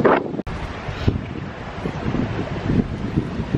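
Wind gusting across an open seaside spot by a hotel in the Algarve, a steady broad rush with buffeting bursts on the microphone, continuous through the moment with no talk.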